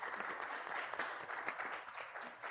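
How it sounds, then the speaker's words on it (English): Applause from an audience at the close of a talk-series event, a modest patter of many hands clapping steadily for a couple of seconds at low, somewhat distant level with no talk over it. "Let's give them a round of applause."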